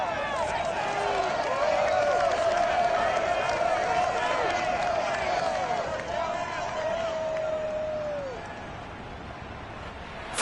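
A Madden NFL 22 stadium crowd at Paul Brown Stadium in Cincinnati for Ravens versus Bengals roars in a steady, dense wash of cheering and whistles that eases slightly near the end.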